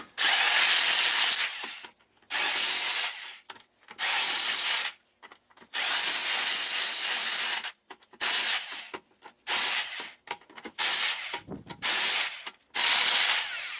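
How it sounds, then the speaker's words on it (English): A cordless impact wrench runs wheel bearing bolts into a Chevy Blazer hub in close, loud bursts of rapid hammering, about nine separate runs split by short silent pauses. "Now I'm going to run these in with an impact"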